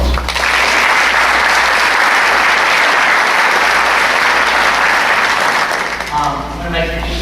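An audience gives a sustained, loud round of applause for three employees at a city address event, steady clapping that tapers off near the end.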